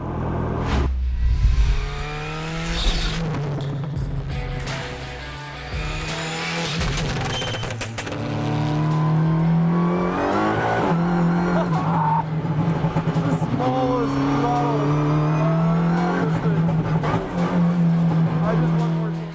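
A VW Golf GTI TCR race car pulls away in first gear, its engine revving loudly and repeatedly climbing in pitch through sharp bursts, close and dominant throughout.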